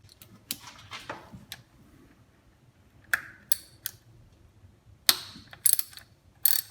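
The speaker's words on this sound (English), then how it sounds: "We need to unscrew these bolts and get the coil on plugs out. These are 10mm bolts," A 10mm socket ratchet loosens the coil-on-plug bolts on a Toyota Corolla 1.8 engine, giving quiet clicking ratchet pawl sounds and short metallic taps in irregular bursts against near silence.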